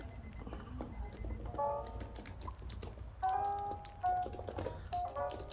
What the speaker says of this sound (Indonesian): Tombol-tombol di keyboardnya sendiri tuh ini sangat premium sih.